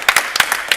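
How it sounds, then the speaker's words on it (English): A few sharp, separate hand claps from a gameshow audience applauding a contestant on an antiques quiz, brief and close, spaced unevenly across under a second. "Vincent, give Vincent a round of applause."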